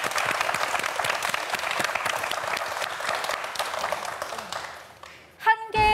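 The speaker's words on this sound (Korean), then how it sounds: "우리 네 학생 모두에게 다시 한번 박수 한번 부탁드립니다." A studio audience applauds four student contestants on a TV science quiz show, dense clapping that gradually thins and fades before a brief musical sting takes over at the end.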